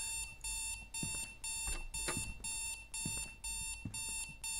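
In the horror game Strange Night, an alarm rings as a loud, evenly pulsing electronic beep that repeats about nine times in quick succession, with faint thuds beneath it.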